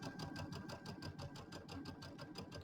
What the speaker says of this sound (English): I'm just going to go ahead and just sew over the trim, and I'm sewing about 1/8 of an inch in, doing like a little top stitch